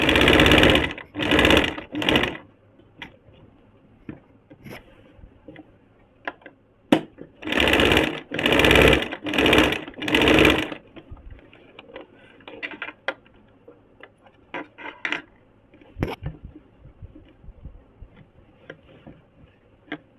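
A sewing machine lays double tacking stitches on kurti fabric in loud, close bursts of rapid mechanical chatter, several short runs separated by pauses filled with faint ticks and handling clicks.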